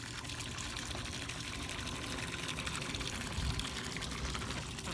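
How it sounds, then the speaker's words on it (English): A pump shoots a steady stream of water from a pool into a backyard pond, a continuous loud pouring splash close by with no break across the whole stretch and no talk. "take that pump out, run the cord over here, and then just shoot the water,"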